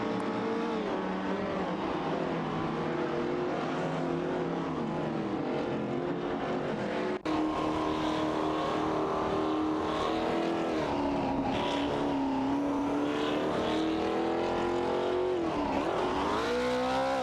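Race car engines from an AI racing video game drone and whine continuously at steady loudness, with pitch shifts and a brief break midway, no talk.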